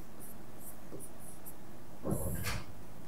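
Chalk or marker strokes on a classroom board, a few light scratchy marks followed by a longer firmer stroke, over a steady background hum.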